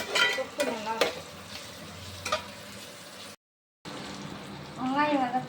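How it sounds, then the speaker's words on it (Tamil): Onions sizzle and are stirred in a pan for a chicken gravy, giving a soft hiss with scraping strokes. The sound cuts out briefly, and a voice speaks near the end. "வெங்காயம் நல்லா வதங்கணும்"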